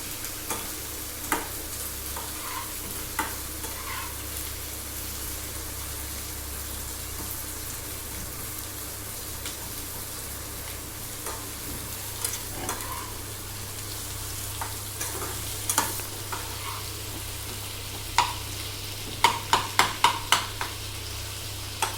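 Onion stir-fried in a pan for a prawn bharta, with a steady low sizzle running throughout and occasional soft scrapes and taps of a utensil, growing into a quick cluster of clicks near the end.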